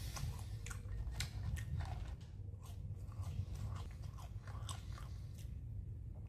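Close, crunchy biting and chewing on a Chicken Big Mac, steady and continuous with no talking.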